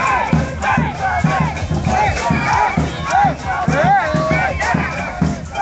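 Large protest crowd in Ferguson, loud and close, with rhythmic chanting in repeated bursts and shouting voices rising over a dense hubbub of many people.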